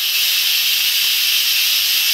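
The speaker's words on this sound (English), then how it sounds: "So I'm going to release the steam." Loud, continuous hiss of steam venting from an Instant Pot pressure cooker cooking sage mashed potatoes, a close, steady high-pitched rush that holds without a break.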